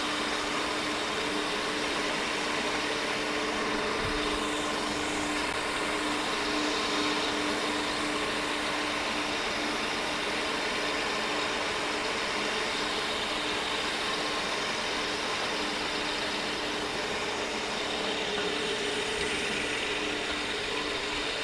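A floor grinder runs with a vacuum hose attached to it, a dense, unbroken mechanical roar and whine that holds steady at a constant level for the whole stretch, close and loud, with no voices.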